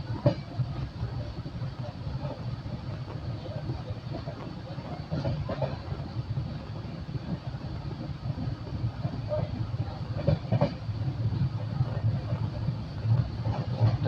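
Indian Railways weekly special passenger train from Nanded to Visakhapatnam pulling away after a goods train has passed, a steady low rumble of rolling carriages with faint clatter building over time, heard from inside the coach.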